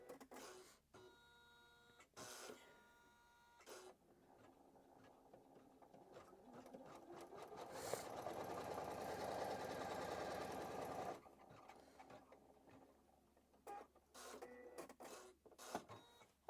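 An embroidery machine stitches an in-the-hoop bag in quick rapid bursts, broken by short pauses and clicks, with one longer, louder continuous run of dense stitching in the middle.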